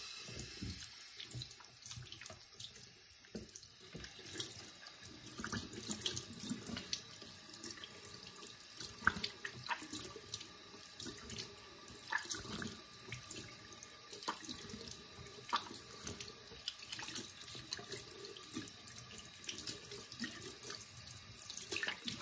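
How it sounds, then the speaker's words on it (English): Tap water runs steadily into a sink during a face rinse, with a continuous splashing flow and uneven splashes as hands move through the stream, fairly quiet, close and without speech. "now it's time to rinse my face."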